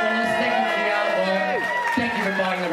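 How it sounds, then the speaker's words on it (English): Crowd at a dance-party event makes noise amid loud sustained music, with cheering voices blending into the dense, continuous sound. "A big round of applause,"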